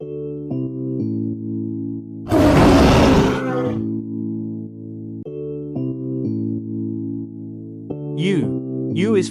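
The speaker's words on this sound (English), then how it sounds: "T is for tiger" A single loud, rough tiger roar bursts out over steady background music, lasting about a second before fading.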